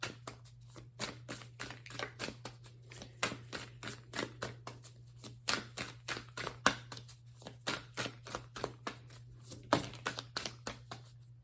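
Seven Energies oracle cards by Colette Baron Reed being shuffled in the hands, a close series of soft, rhythmic riffling snaps and slaps repeating steadily over a faint background hum.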